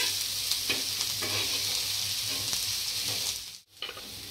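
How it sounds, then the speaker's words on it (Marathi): Chopped onions fry steadily on medium heat for an egg curry, a close, continuous sizzle with soft stirring scrapes, briefly dipping just before the end. "आणि आता कांदा भाजून घेते। कांदा मी मध्यम गॅसवर भाजून घेणार आहे"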